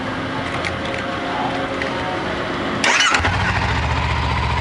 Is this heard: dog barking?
no